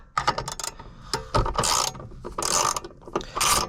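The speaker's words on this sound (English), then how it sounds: "Unscrew the 10 mils." A ratchet clicks in quick bursts while 10 mm bolts are unscrewed from a damper module on a Honda Integra Type R, close and crisp, with brief pauses between rapid runs of pawl clicking.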